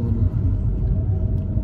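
A car engine rumbles low and steady from inside the moving vehicle, with no voices over the drone.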